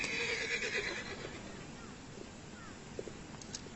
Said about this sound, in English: See to the horses.